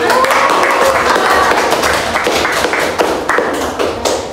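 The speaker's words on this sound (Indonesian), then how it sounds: "sekalian aplaus buat Rahma" A classroom breaks into loud applause for Rahma, with many hands clapping steadily and close by for the whole stretch before it slowly thins out.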